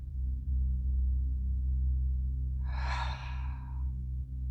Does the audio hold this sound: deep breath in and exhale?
yes